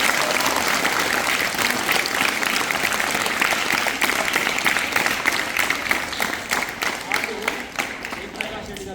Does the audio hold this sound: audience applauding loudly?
yes